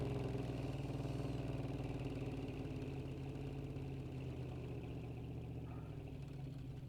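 An American muscle car engine in the Drive Beyond Horizons game rumbles steadily at idle, a loud, low, continuous throb with faint rhythmic firing pulses and no voices.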